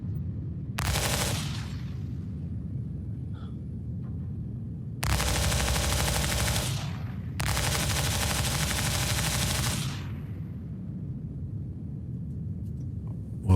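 Ship guns firing in Star Citizen on the Paladin gunship. Three loud bursts of rapid automatic fire, one short and two longer, come in quick succession over a low engine hum.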